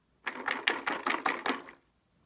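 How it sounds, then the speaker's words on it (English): A quick run of six or seven dry rattling shakes of a box of Q-tips, evenly paced and close, then silence. "Q-tips. A box of Q-tips."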